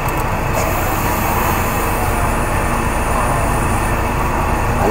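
The air conditioning blower and air compressor of a Suzuki Every wagon run together as a loud, steady whooshing roar with no breaks, close and unchanging.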